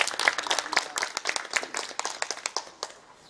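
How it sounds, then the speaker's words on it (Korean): A small group claps for the mayor at a community meeting in Icheon, sharp, close individual hand claps in a quick uneven rhythm that thin out and stop after about three seconds. "오늘 말씀해 주신 우리 시장님께 큰 박수 한번"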